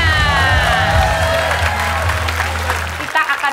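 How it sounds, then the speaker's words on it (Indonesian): A studio audience applauds on an Indonesian word-guessing game show, loud and steady with cheers and bright musical tones over it, then cutting off sharply near the end. "Tepuk tangan dulu buat semuanya."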